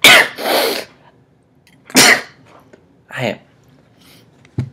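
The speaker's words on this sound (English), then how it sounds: "I picked the worst time to sneeze." A sharp sneeze bursts out, followed by a few short breathy throat sounds and a small click, with quiet gaps between them.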